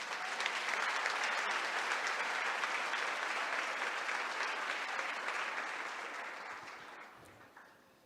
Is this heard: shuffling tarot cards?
no